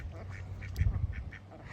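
Ducks quack a few times at close range over a low rumbling background, with soft nasal calls scattered through a short moment.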